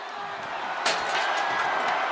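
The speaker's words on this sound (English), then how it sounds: "Listen to this crowd" A wrestling arena crowd cheering in WWE 2K25, a broad roar of voices that swells after a sudden impact and holds steady, with commentary talk over it.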